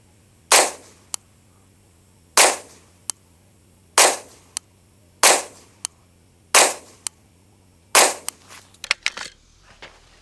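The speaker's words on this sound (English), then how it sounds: "Let's shoot another group." Six sharp rifle shots fired one at a time from sandbags at a target 50 yards away, each loud crack trailing off briefly, spaced about one and a half seconds apart, then a few fainter clicks and clatter.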